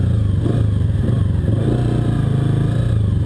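Motorcycle engine idling with a steady low rumble and light mechanical clatter, close and loud throughout, before a wheelie ride inside a wealthy gated condominium; no voices.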